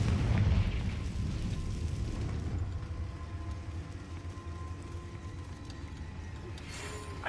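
A Confringo spell blast in Hogwarts Legacy, a deep booming explosion that fades into a long rumbling decay, with a faint swishing effect near the end.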